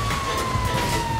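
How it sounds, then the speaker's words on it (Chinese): An ambulance siren in the video game GTA5 wails as a steady, slightly falling tone over dense, noisy game-world rumble, loud and continuous. "救护车来了，救护车来了！"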